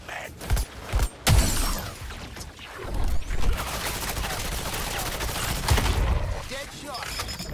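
Bombardment gunfire in Suicide Squad: Kill the Justice League, with loud bursts of shots and crashing impacts, an early cluster of sharp blasts followed by a sustained barrage, with a voice mixed in.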